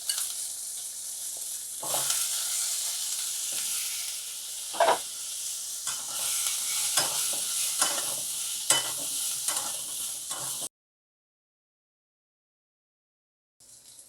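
Cherries sizzling in a pan with turmeric and salt while being stirred, a steady bright frying hiss with scraping stir strokes for about ten seconds before cutting to silence.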